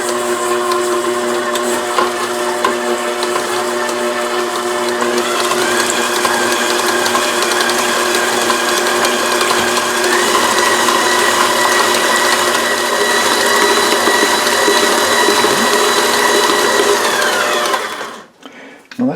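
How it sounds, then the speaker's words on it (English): A stand mixer beats softened butter and cream cheese on medium, a loud steady mechanical whir with ratcheting gear hum that runs continuously before winding down abruptly at the end. "the 8 ounces of butter and the 8 ounces of cream cheese, both of which have been softened, are now in the stand mixer"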